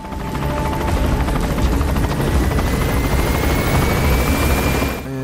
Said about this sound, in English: that is not our helicopter, that's actually an enemy